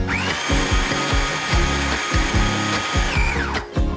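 A kitchen blender whirs loudly and continuously, chopping a cheesecake ball mixture with soft coconut oil, its motor pulsing in quick rhythmic bursts as the blades churn the thick blend.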